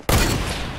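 A single sharp sniper rifle shot in Fortnite, loud and close, with a long ringing tail.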